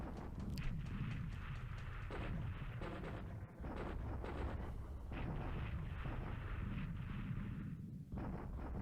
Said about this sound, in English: we're bombing Lido now because I saw a lot of aircraft on the ground there